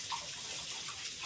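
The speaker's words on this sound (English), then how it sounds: "I'm going to rinse this off real quick" Steady running water from a tap rinsing strained vegetables for homemade vegetable broth, a soft continuous splash and hiss close by.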